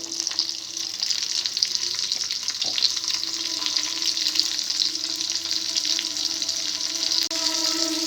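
Green chillies and tomato pieces fry in a pan for a Telugu sorrel and tomato chutney, giving a steady, dense sizzle throughout with a faint scrape of stirring and no voices.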